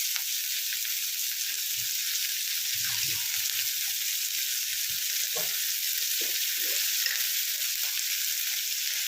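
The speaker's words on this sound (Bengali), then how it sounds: "এটাই এবার নরম করে ভেজে নেব। এর মধ্যে একটু নুন আর হলুদ দিয়ে দেবো।" Thinly sliced onions frying with salt and turmeric in a pan, a loud continuous close sizzle with occasional soft stirring knocks underneath, steady throughout.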